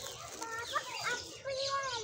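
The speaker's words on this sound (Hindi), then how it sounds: "ये मुर्गा भी है" A rooster clucks at a lakeside park in Islamabad, giving a few wavering calls and short clucks at moderate distance, with people's voices faintly mixed in around it.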